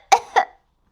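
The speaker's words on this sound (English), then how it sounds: "Susie Sheep and Danny Dog start to cough too." Two sharp coughs in quick succession, a reader voicing Susie Sheep and Danny Dog catching a cough in a Peppa Pig story read aloud for toddlers, close and clear, then silence.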